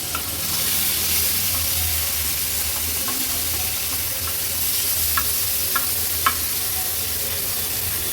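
Pieces of fish in an Agri Koli style fish thali fry in oil on a flat griddle. They give a steady, close, broadband sizzle with a few faint ticks and pops, and no one speaks.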